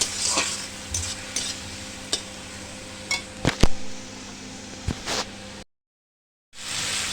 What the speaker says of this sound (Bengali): একটু একটু জল দিয়ে মশলাটাকে ভালো করে কষিয়ে নিতে হবে।